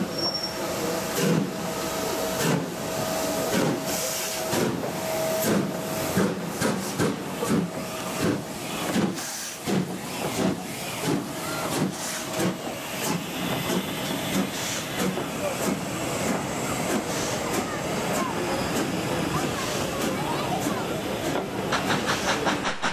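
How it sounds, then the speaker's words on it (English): Steam locomotive Mayflower pulls away from Ramsbottom on the East Lancashire Railway, with loud, rhythmic exhaust chuffs and continuous steam hiss, near and steady for the whole stretch. "Mayflower is captured departing Ramsbottom."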